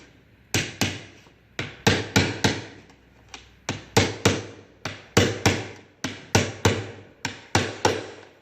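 A hammer taps a thin aluminium piece against a VW T3 Vanagon sliding window, a steady run of about twenty crisp, close knocks in short bursts with brief pauses between.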